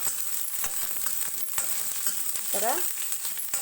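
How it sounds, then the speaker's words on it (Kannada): Sliced onions and curry leaves fry in a pan for chilli chicken, giving a continuous crackling sizzle with occasional stirring scrapes, and a person speaks briefly. "ಈರುಳ್ಳಿ, ಕರಿಬೇವು ಇವು ಸ್ವಲ್ಪ ಫ್ರೈ ಆಗಬೇಕು"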